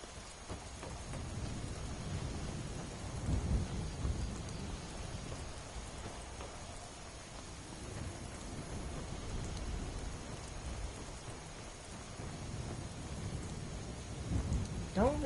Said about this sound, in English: it's a dark and stormy night, and that's very appropriate for the quest line we're going to try to do